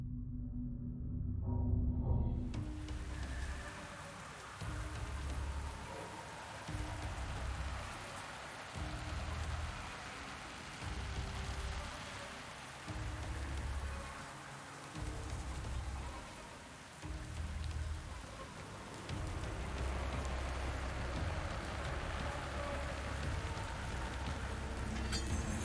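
Rain falls steadily in the video game Warhammer Vermintide 2, a dense continuous hiss of drops over a pulsing low rumble that swells and fades in regular waves, with a brief quieter start before the downpour fills in.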